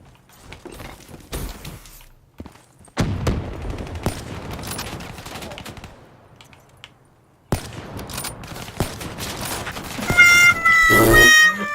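Sniper rifle shots and scattered gunfire in the video game Black Ops 3, a few sharp isolated cracks among bursts of rapid firing, close and loud, ending in dense electronic effects.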